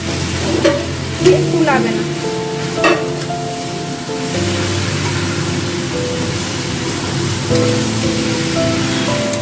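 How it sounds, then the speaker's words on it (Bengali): Onions fry in a pan for a mutton curry, sizzling steadily while a spoon stirs and scrapes through them, with a few louder knocks near the start. "পেঁয়াজটা দিয়ে আবারও ভালো করে আমি পেঁয়াজটাকে কষাতে থাকবো যতক্ষণ না পেঁয়াজটা ভালো করে লাল লাল করে ভাজা হয়ে যাচ্ছে"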